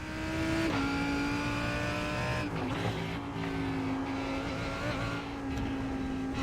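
A GT race car engine in the VRS GT Sprint racing game at Monza drones at high revs, shifting pitch through gear changes, loud and continuous with no speech.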